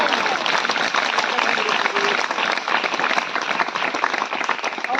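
A congregation at a Hindi-language church service applauds in dense, continuous clapping that holds steady for the whole stretch, loud and close, with faint voices mixed in.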